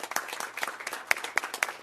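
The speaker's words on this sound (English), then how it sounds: "please give a appreciation and an applause to these awesome individuals from Brigham Young Academy" Sparse, faint clapping from a small audience honoring individuals from Brigham Young Academy, a few distinct hand claps scattered over a couple of seconds.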